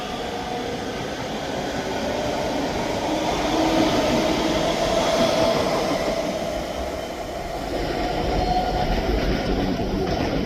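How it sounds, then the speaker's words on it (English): A ScotRail class 385 electric train arrives at a platform at Edinburgh Haymarket station, giving a loud continuous rumble and rolling roar with a faint wheel squeal that swells and eases, close by and with no talk. "The train arriving at platform 3 is the 9:49 service to Edinburgh."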